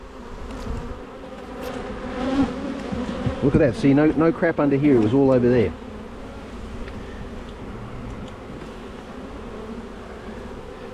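A steady insect buzz from many honeybees in an opened Langstroth hive fills the background throughout, with someone talking over it in the middle.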